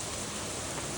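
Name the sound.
rain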